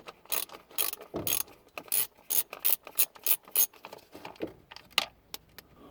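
Ratchet wrench with an 8mm socket working bolts loose on a Ford Fiesta Mk6, a series of close, sharp clicking bursts in an uneven rhythm with brief pauses between strokes.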